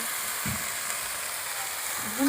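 Ground spice masala with chopped green chillies fries in oil, a dense, even sizzling hiss up close with a brief low thump or two.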